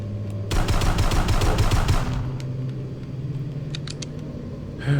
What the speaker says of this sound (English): let me see if I can use my gun now.